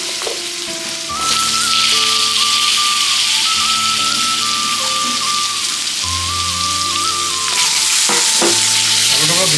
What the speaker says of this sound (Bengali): আলুটাকে ভেজে নিই, তারপরে পেস্ট করা মশলাগুলো দিব।